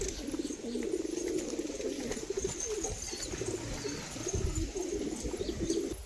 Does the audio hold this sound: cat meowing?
no